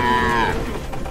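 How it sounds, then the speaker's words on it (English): A single loud, close moo from cattle being herded along a road in a large village in Bangladesh, falling in pitch and fading after about half a second. "there's still some more cows in front of us, or cattle rather"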